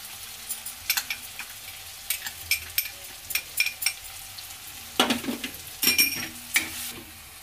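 Turmeric, red chilli and other ground spices sizzle in a hot pan while being stirred for palak paneer, with scattered scraping and clinking strokes and louder bursts of frying near the end.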